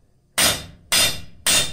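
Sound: hammer striking steel on anvil while forging blacksmith tongs

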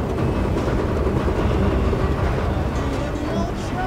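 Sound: train in the video game Indika

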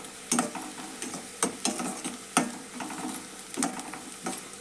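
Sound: frying dal palya with masala chili powder in oil

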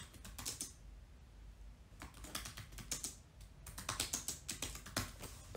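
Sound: typing a title on a computer keyboard

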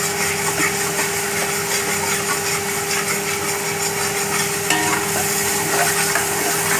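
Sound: stirring ginger-garlic paste into frying biryani masala

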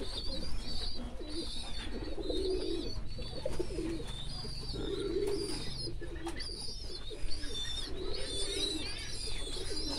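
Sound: ornamental pigeons cooing in a pigeon loft

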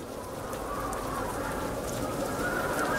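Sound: rain in a video game

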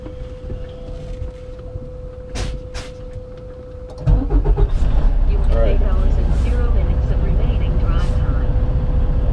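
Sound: truck engine being started back up

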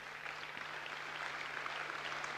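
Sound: audience applause

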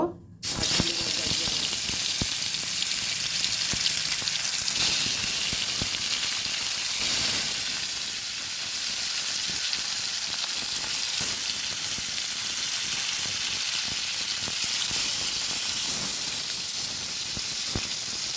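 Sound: snakehead fish frying in hot oil in a wok

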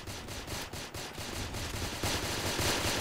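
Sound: gun firing bombs in a video game

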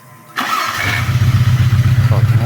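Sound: engine of a homemade VAZ-based loader starting with key and start button

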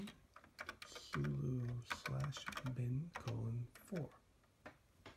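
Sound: typing on TRS-80 Model III computer keyboard

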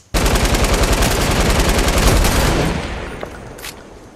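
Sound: sniper gunfire in the video game Fortnite

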